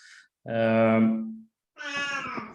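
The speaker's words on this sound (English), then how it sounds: "the cat is singing with me" A cat meows loudly and close by in two long, drawn-out calls, the first sustained and tonal, the second rising and rougher, with a brief voice at the very start.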